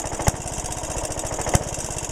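An old Maytag hit-and-miss engine runs with a fast, even putt-putt pulse and two sharp firing bangs about a second apart, fairly close and alone.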